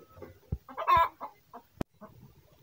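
An Aseel hen sitting on eggs clucks in short, uneven bursts, close by, with a couple of sharp knocks in between.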